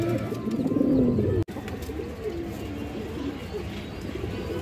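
Low, rolling coos from pet pigeons, a matched pair kept together, murmur close by over a steady background hum, with a brief dropout partway through.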